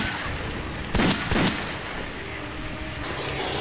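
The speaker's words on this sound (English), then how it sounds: "Pistol shots and then one shotgun shot each." Two heavy gunshots in close succession ring out in the survival horror game Silent Hill: Homecoming, a pistol and a shotgun fired at enemies over a steady, dense background hum, with no one speaking.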